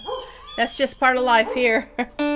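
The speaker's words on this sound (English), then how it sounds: "There's chickens squawking, dogs barking." A dog barks and yips several times in short bursts, close by, while a person talks over it.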